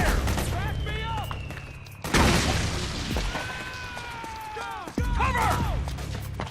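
Gunfire in Metal Gear Solid 4: Guns of the Patriots, with loud shots at intervals over the game's music and effects.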